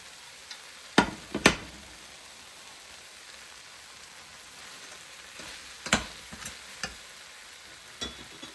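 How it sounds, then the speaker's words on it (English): Beef and broccoli stir-frying in a pan, a soft steady sizzle with several sharp taps and scrapes of a utensil against the pan. "So I'm going to add the beef back in."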